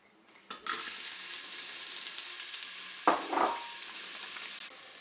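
Onions drop into hot oil in a Cookeo multicooker and start frying with a sudden, loud, steady sizzle, broken midway by a brief clatter or stir.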